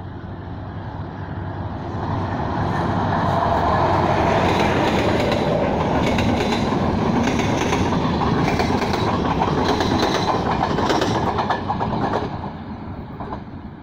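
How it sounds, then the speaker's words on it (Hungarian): An express train hauled by a class 326 'Hörgő' locomotive passes through a station at Alsóőrs without stopping: a rumbling roar builds quickly, then sustained clattering wheel beats and rushing noise run close and loud before easing off. "És áthaladó vonat, tehát ő nem fog megállni."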